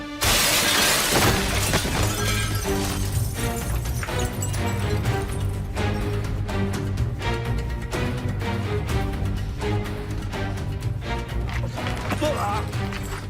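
A glass pane shatters loudly at the start with a bright burst of breaking glass, then music and busy background sounds continue steadily in a Turkish television drama.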